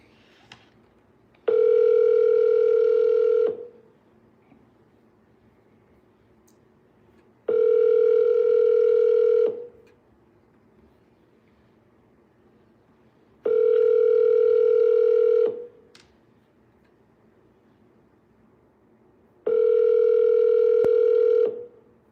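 A telephone ring-back tone sounds while calling a for-sale-by-owner listing lead: four steady two-second tone bursts spaced evenly apart, loud and clear with silence between them and no voices.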